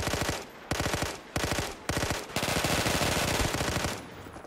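Rapid automatic gunfire from a Call of Duty custom zombies map, loud and close, in three short bursts followed by one longer sustained stream of shots, with no talk.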